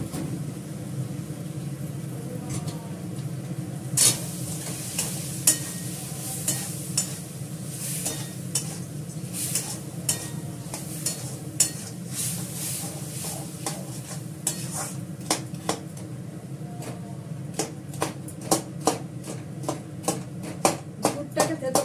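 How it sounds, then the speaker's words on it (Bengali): Jaggery being crushed and stirred in a pan, with repeated sharp scrapes and clicks of the utensil over a steady low sizzle that runs throughout at close range. "গুড়টাকে থেতো করে দিচ্ছি, গুড়টা নাহলে গলতে সময় লাগে।"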